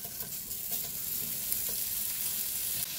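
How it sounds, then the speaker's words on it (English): Bacon and onions sauté in oil in a pan, giving a close, steady sizzle with faint stirring scrapes and no voices. "we're gonna add some oil to this pan and get our bacon and onions sauteing"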